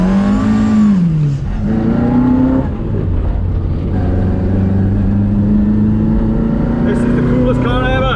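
A Mk2 Ford Escort engine revs hard and close, its pitch climbing and dropping as it accelerates, loud and continuous throughout.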